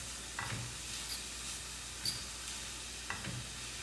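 Shrimp and vegetables stir-fry in a pan, a quiet steady sizzle broken by a few faint scrapes and clicks of a utensil pushing the food around.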